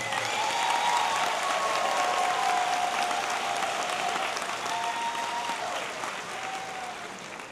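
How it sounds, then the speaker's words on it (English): A high school graduation audience applauds its teachers in a large, sustained wash of clapping with faint cheers, strong at first and slowly tapering toward the end. "Let's give them a round of applause."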